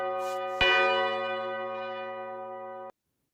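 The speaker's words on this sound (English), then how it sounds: "for whom the bell tolls" A church bell strikes once with a bright clang, its deep humming tone ringing on and slowly fading for a couple of seconds before cutting off.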